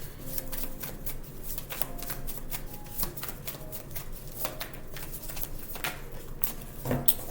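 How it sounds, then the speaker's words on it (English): A deck of tarot cards is shuffled up close in a rapid stream of riffling clicks and flutters, with cards slipping loose near the end and no speech over it. "All these cards want to fall out."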